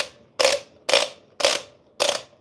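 Adjustment ring on a Quick Mill coffee grinder clicking: five crisp, separate clicks spaced about half a second apart, close and fairly loud in otherwise quiet surroundings.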